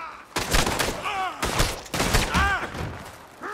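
Gunfire in the Western video game Red Dead Redemption 2, several loud broadband shots and bursts going off in quick succession, with shouting voices and speech mixed between them.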